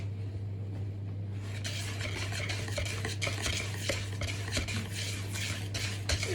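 Cocoa cake batter being stirred steadily in a bowl, a continuous close scraping and clinking of utensil against the bowl, with a low steady hum underneath and no talking.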